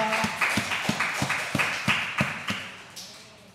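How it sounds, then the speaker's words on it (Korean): A congregation at a Sunday afternoon praise service in a Korean Presbyterian church in Madrid claps in steady unison. There are about a dozen even, evenly spaced claps that fade slightly toward the end, with no talking. "우리 하나님께 감사의 박수 올려드리겠습니다."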